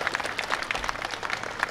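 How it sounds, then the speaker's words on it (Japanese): Crowd clapping at a traditional performing arts festival featuring Morioka Sansa dance, a brief burst of steady, dense applause at moderate volume. "どうぞ皆さん、今一度大きな拍手をお願いいたします。"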